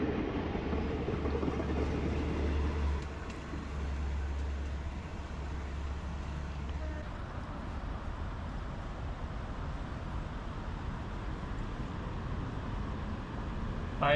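A passenger train with an air-conditioned carriage runs along the tracks, a steady low rumble and rolling rail noise that stays even and fairly distant throughout, with a low hum in the first half.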